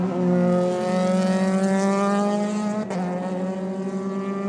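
Euroformula Open single-seater race cars circulating on track at Paul Ricard during qualifying, a loud sustained engine drone with steady harmonic whine and a brief pitch shift near three seconds as cars pass, no voices.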